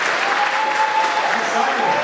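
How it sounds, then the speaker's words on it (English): A crowd at a fall graduation ceremony for non-traditional graduates gives a loud, continuous round of applause, dense clapping throughout with a faint voice or tone threading beneath it. "if everybody can give a round of applause for these graduates"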